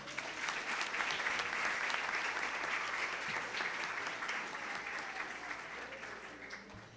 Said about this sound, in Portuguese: Mais um aplauso a Jesus, por favor.